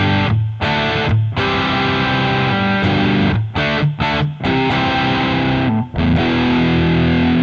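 Electric guitar played through a Musiclily ODDT-01 distortion pedal, loud sustained distorted chords ringing with brief gaps between strummed hits, no talking.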